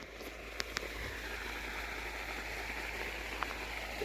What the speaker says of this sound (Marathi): आणि इकडं पाणी कसं चालू आहे ते तुम्हाला दाखवतो